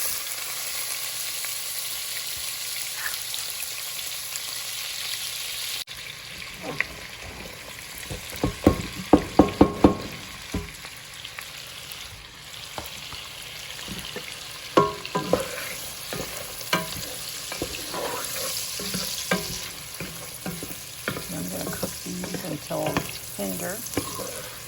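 Celery and onions drop into hot reserved bacon fat and fry with a loud, steady sizzle, interrupted by clattering stirs and scrapes of the spoon, close up with no talk.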